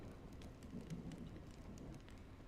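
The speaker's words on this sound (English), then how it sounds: "You're lucky to have found shelter from the rain." Rain in the video game Honkai: Star Rail, a soft, steady patter of drops on surfaces with faint low rumbling underneath, quiet and without speech.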